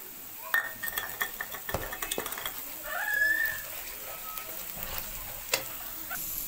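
Ginger garlic paste hits light-browned onions in a hot pan, giving a steady sizzle with clinks of a utensil against the pan and one brief bright hiss, all close and without talk.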